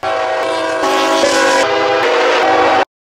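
A freight train on the Superior line roars past up close with a steady horn blast sounding over the rumble of the cars, then cuts off abruptly.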